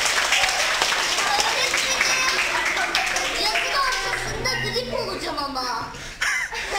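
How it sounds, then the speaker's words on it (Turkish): Audience applause mixed with chuckles and laughter during an English vocabulary tournament show, clapping under lively voices and speech throughout. "alkışlıyoruz Boran'ı bu güzel esprisinden dolayı."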